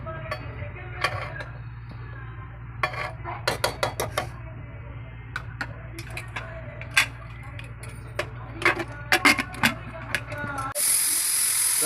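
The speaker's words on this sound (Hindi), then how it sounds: "इसमें 3 सीटी लगाएंगे कुकर बंद करके।" Rapid metallic ticking and rattling over a steady hum, ending in a sudden loud hiss of escaping steam from a pressure cooker cooking goat meat.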